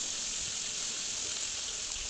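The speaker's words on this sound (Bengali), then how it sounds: "কড়াইয়ে তেলে আলু দিয়ে দিলাম, আলুগুলো একটু ভেজে নিলাম।" Boiled potatoes fry in hot oil in a wok, giving a steady close hissing sizzle that holds even throughout with no talking.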